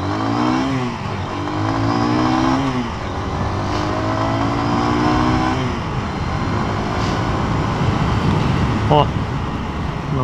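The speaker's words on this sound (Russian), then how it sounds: "уходим первым со светофора" Lifan KPR200 motorcycle pulling away from a traffic light, engine revving up through several gear changes with stepped rising pitch, close and loud over road and wind noise, with a voice talking underneath.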